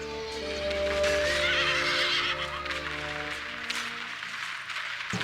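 Horses neigh and whinny amid a video game battle as hussars charge into pikemen, with long, shrill cries rising over a dense, rumbling battlefield din.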